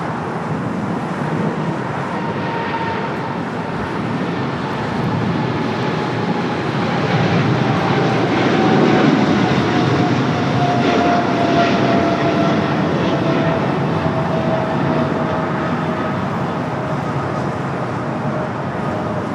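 A Qantas Airbus A330-300 departs Los Angeles for Brisbane with a sustained heavy jet roar that swells toward the middle and eases off, a thin engine whine gliding above, no talk.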